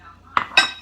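A metal utensil mixing thick brownie batter in a bowl, two quick, close clinks against the dish.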